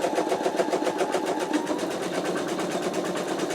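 An embroidery machine stitches a placement line on in-the-hoop wallet fabric, making a steady, fast, even mechanical whir at close range with no talking.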